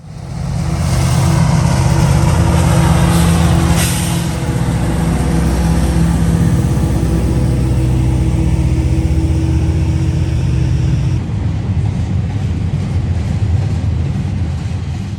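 Heavy freight train with an SD70ACe mid-train DPU locomotive pushing hard uphill, a loud, sustained low diesel engine roar and droning throb with rolling rail noise, close and continuous.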